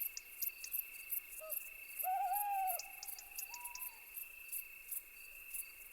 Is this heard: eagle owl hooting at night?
yes